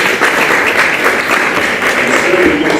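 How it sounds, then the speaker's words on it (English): A church audience at a health ministry seminar gives a steady round of applause, dense and continuous throughout, with faint voices mixed in. "Thank you with a round of applause for our health ministry."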